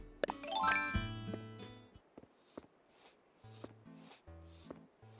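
A bell cricket in Animal Crossing: New Horizons chirps with a steady high ringing trill that runs for several seconds, following a short bright jingle of game tones at the start.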